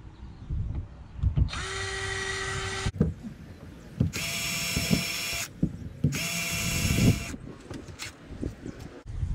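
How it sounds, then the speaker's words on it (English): A power drill whines in three bursts of a second or two each while drilling holes in a homemade fishing kayak, with knocking and handling clatter between them; close and fairly loud. "You're just drilling some holes, not that hard."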